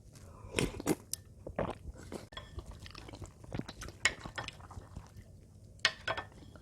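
Close crunchy bites and chewing of skin from a cooked sea snailfish (mulmegi), irregular wet crunches and smacks near the mouth with faint clinks of dishes and cutlery, no words spoken.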